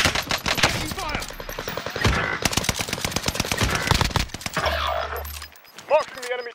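Rapid automatic gunfire in Call of Duty, Caldera Resurgence mode, dense bursts of machine-gun shots crackling loud and near for several seconds, then a brief lull with scattered sounds and voices.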